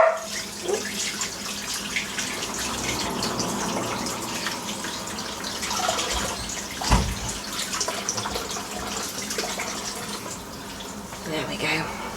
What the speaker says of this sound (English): Let me just rinse off my hands.